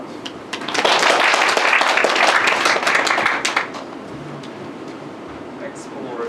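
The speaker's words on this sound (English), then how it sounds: "Let's welcome him with a warm applause." Audience applause welcoming a guest speaker at a lecture, a dense wash of clapping that swells in and then fades after a few seconds, leaving quiet room tone.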